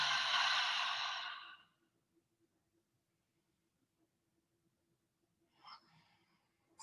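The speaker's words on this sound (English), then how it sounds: "Nice deep breath" A long, audible exhale during a yoga session fades into near silence, followed by a quieter breath a few seconds later.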